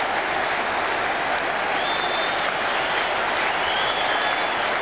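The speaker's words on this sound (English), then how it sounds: "Branca takes the applause!" A football stadium crowd applauds a goal in a 1997–98 Middlesbrough match, a dense, steady wash of clapping and cheering with occasional whistles, sustained throughout at a distance.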